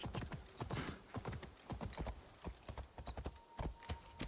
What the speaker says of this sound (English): Poor little horse.